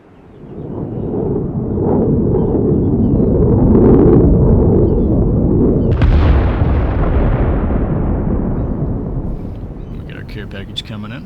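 An airstrike bomb explodes in a video game: a long, heavy booming blast that swells, cracks sharply midway and rumbles on for several seconds, loud and close.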